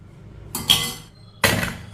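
Chopped tomato and vegetables for a weight-loss soup being stirred in a pressure cooker: two short bursts of metal spoon scraping and clinking against the pot, close and clear, with quiet pauses between.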